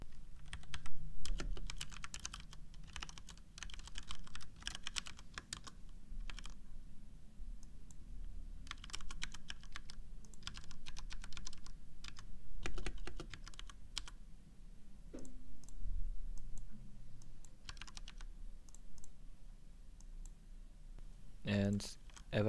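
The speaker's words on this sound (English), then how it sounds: "Turn up the volume to clearly hear the key presses." Key presses on a computer keyboard click in quick, uneven bursts, close and fairly quiet, with short pauses between runs of typing and a person talking at times.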